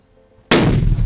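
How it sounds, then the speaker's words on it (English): Hydrogen gas reacting with oxygen detonates in a single sudden, loud bang after a moment of near quiet, followed by a dense, booming rumble that carries on to the end. "That explosion was the power of hydrogen gas reacting with oxygen."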